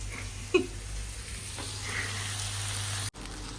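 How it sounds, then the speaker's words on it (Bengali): Fish frying in a pan over a low gas flame, a soft continuous sizzle with a small pop near the start, steady and close before cutting off abruptly near the end. "এই যে মাছটা ফ্রাই করতেছি একেবারে গ্যাসটা হালকা করে খুব সুন্দর করে ফ্রাই করবো"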